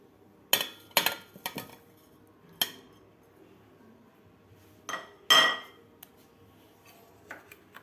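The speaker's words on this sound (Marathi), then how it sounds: "आता आपल्याला हे एका मिक्सरच्या भांड्यात घालायचं आहे" Thick peeled chikoo pieces go into a steel mixer jar for a milkshake, with a handful of sharp, close clinks and knocks of spoon against jar spaced irregularly amid quiet.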